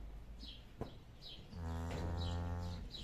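A cow on a farm lets out a single long, deep moo in the second half, fairly close and loud, with faint bird chirps in the background beforehand.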